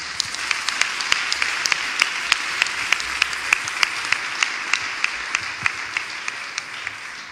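An audience at a church question-and-answer session applauds steadily, a dense wash of many hands clapping with some sharp individual claps standing out throughout.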